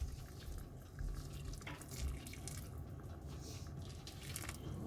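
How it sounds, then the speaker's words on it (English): Water poured into a cooking pot while making a vegetable curry, a steady low splashing and gurgling stream heard close up with faint squishy kitchen sounds. "let's just pour the water in first"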